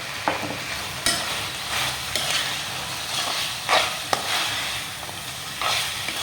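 Chicken curry masala frying and being stirred in a pan, with a constant close hiss of sizzling oil broken by periodic scraping strokes of a spoon through the mixture.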